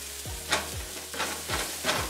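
Onions fry in a pan with a steady soft sizzle while a utensil stirs them in about four regular scraping strokes roughly half a second apart, close and fairly quiet, with no voices.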